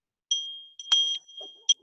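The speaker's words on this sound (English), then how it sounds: "Today, I'm going to ring the bell to start the meeting officially." Small bell struck to open a Rotary Club meeting, giving a few bright, clear rings: one short tone, a louder longer ring, then a final quick chime, close and alone in a quiet room.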